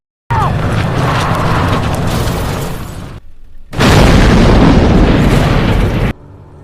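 A car explodes in a film action scene, two loud, sustained blasts of roaring, crackling noise separated by a short quieter gap, with a faint voice near the start.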